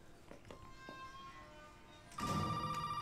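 A telephone rings inside the Resident Evil VII video game, a steady electronic ring that grows suddenly louder and fuller partway through, heard alone with no talking.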